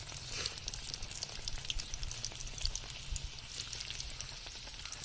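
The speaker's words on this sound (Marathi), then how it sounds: "पूर्ण हे सगळे सगळी पानं तळून घ्यायची असे" Colocasia (alu) leaf fritters frying in hot oil give a continuous crackling, bubbling sizzle at a steady, fairly quiet level, with no talking.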